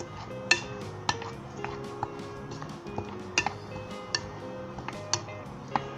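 Gram flour batter with ajwain, dried coriander and salt is mixed in a bowl, giving regular light clinks and taps of a utensil against the bowl roughly once a second, close and fairly quiet with no speech.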